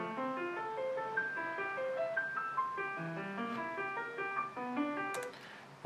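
Cubase chord track playback of a Mozart-style progression moving tonic, subdominant and dominant, heard as sustained synth chords changing steadily in clear succession with no talking over them.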